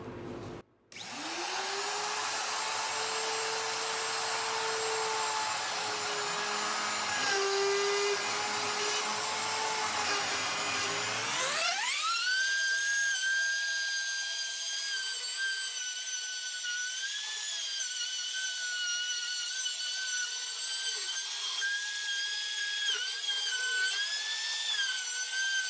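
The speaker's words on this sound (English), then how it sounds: "Got the router set with the round over bit set to the right depth. Got some hearing protection going on. Dust filter running." A wood router fitted with a round-over bit cuts along reclaimed oak, a loud, steady high whine with a dust filter running behind it. The pitch climbs sharply midway as the bit comes up to full speed, then holds, with no speech.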